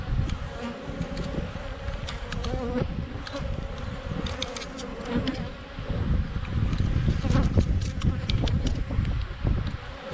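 Dense, continuous buzzing of many honeybees around an open hive fills the air close by, swelling and easing without pause, no voices.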